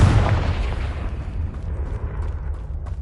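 A Confringo fire spell blasts in Hogwarts Legacy on PS5: a loud, close explosive burst that rumbles and decays into a sustained fiery roar, with no talking.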